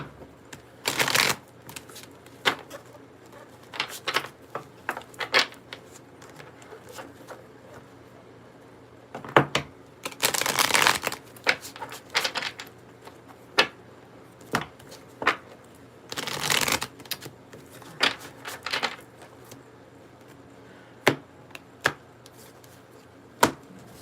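Tarot cards are shuffled repeatedly in bursts of riffling and soft slapping, with quiet pauses between, close and clear with no talking.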